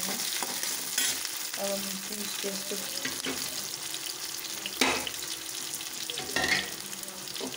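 Onion and peas sizzle in a pan with a mixed potato, cauliflower and carrot sabzi, a steady frying hiss with some stirring while a voice talks over it.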